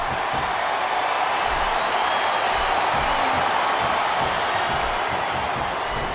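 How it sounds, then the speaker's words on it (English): A wrestling arena crowd in WWE SmackDown vs Raw 2007 roars steadily, a dense continuous wash of chanting and cheering with no breaks. "listen to that chant, Taz."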